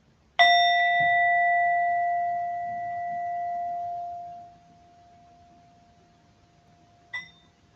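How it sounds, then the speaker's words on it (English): A Tibetan singing bowl is struck once and rings with a clear, sustained tone that slowly fades over several seconds, then a second soft strike sounds near the end, in a quiet room. "I believe a Tibetan singing bowl"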